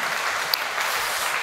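A church congregation at a Sunday afternoon service claps together in a dense, even wash of applause, steady and fairly loud throughout, with no talking.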